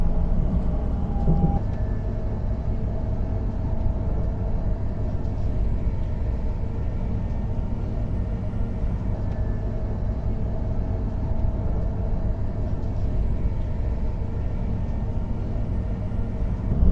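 Low, steady rumble of a train rolling slowly into Chelmsford station, heard from inside with a continuous hum and faint mechanical rattles.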